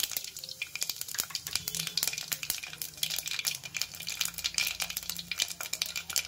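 Mustard and cumin seeds spluttering and popping in hot oil in a bowl, a dense, continuous crackle with many small sharp pops close by.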